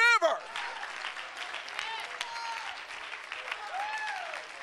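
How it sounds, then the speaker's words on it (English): A church congregation at a miracle service stands and applauds, a full steady wash of clapping that follows a brief spoken voice at the start, with voices calling out over the applause. "Why don't you just stand and give him a little hand clap right now?"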